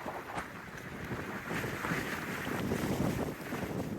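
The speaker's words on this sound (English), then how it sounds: "40-mile-an-hour winds. Pretty gusty." Strong gusty wind roars across the microphone on a ski mountain in Steamboat, with 40-mile-an-hour gusts, a steady broadband rush that swells and buffets loudly throughout without any talk.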